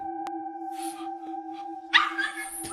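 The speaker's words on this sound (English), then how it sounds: "I was not expecting the dog to bark at me like that" A dog gives a sudden loud bark close by, breaking through a steady electronic hum and quieter shuffling noises.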